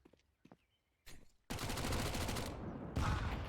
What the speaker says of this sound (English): Double nade right in the face